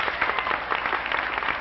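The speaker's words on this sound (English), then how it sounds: "Give him a big round of applause" Crowd applause at a live Universal Studios Florida show in 1993, a brief, fairly distant wash of clapping heard alone with a muffled, lo-fi quality.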